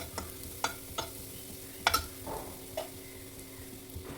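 Masala roasting in hot oil for a beef liver fry, with a steady soft sizzle under repeated scraping strokes of a spoon stirring the pan, the clinks and scrapes coming at an irregular rhythm.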